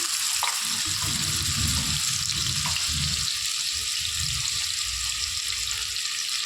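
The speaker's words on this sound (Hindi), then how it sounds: "तो चलिए अभी हमारा ये ऑयल गर्म हो गया, तो इसके अंदर जो मैंने यहाँ पे 1-2 प्याज बारीक मैंने इस तरह से चॉप कर ली हूँ, बारीक प्याज को इसके अंदर हम डाल देंगे।" Finely chopped onions fry in hot oil, giving a steady broadband sizzle throughout with a few low stirring knocks underneath, close and continuous.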